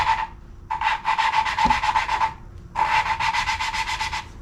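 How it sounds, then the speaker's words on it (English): Gritty rasping strokes come from lapping a valve into its seat on a Flathead Ford V8, rhythmic back-and-forth rubbing in two close bursts split by a short pause. "hear that grittiness?"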